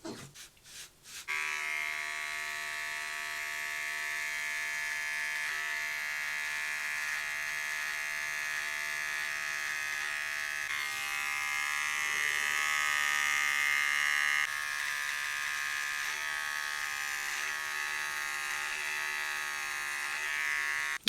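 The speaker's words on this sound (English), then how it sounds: "bring the size down with my little Remington razor right here. I got the number 1 guard on it" A Remington electric trimmer fitted with a number 1 guard buzzes steadily while trimming a beard, a close, continuous motorised whine that holds for about twenty seconds after a brief start-up.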